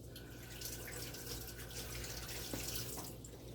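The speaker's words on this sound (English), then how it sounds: "Wash my hands right quick." Hands are washed under a running kitchen tap, a quiet steady stream of water with faint splashes and drips, no voices.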